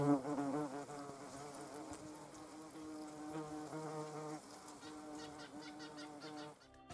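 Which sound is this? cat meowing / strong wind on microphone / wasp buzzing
wasp buzzing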